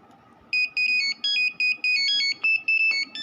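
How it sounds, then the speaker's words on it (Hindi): A mobile phone ringtone plays a bright electronic melody of short, evenly spaced notes, clear and close against a quiet background. "तो मैं यहाँ पर आपको सुना देता हूँ पूनम जी नाम की रिंगटोन है"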